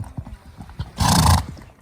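A horse at a horse expo whinnies loudly once in the middle, bracketed by soft scattered thuds and movement before and after.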